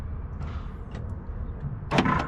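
Door lock actuator on a Nissan/Infiniti A32 clicking as it locks with the door open, a sharp mechanical clack near the end of the clip after a couple of faint ticks, close and alone over low background hum.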